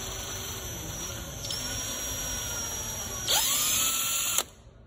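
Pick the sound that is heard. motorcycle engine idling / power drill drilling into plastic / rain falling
power drill drilling into plastic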